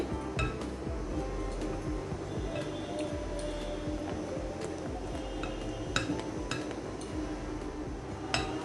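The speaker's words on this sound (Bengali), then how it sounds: "এভাবে নেড়ে চেড়ে আমি মেল্ট করে নিব" Whipped cream and dark chocolate are stirred together in a pot to melt, a utensil scraping and clinking quietly against the metal with a few sharper taps, fairly close and steady.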